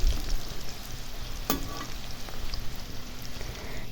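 Kamranga nimki, a crisp Bengali flour snack, frying in hot oil with a steady broadband sizzle, one sharp clink of a utensil partway through and no talk.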